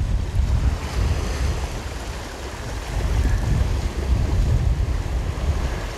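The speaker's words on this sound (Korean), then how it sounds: "바람이 살아나네요" Wind gusts across a sea shore during a fishing session, a steady broad roar with rising and falling surges over surf, no voices.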